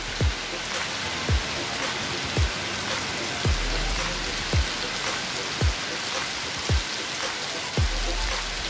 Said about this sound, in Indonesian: Sayang sekali hujannya deras sekali.